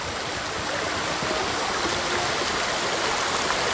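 Rushing water in Ghost of Tsushima, a loud, steady broadband roar of a stream or falls, continuous and close with no break.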